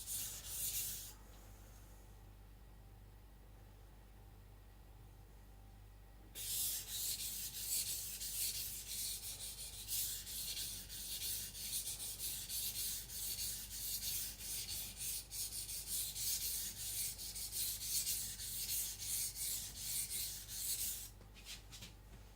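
A kitchen knife being thinned and fully sharpened on a sharpening stone gives a steady, close, rasping scrape of steel on stone. It pauses for a few seconds, then resumes in continuous rhythmic strokes for the rest of the time, with no talking.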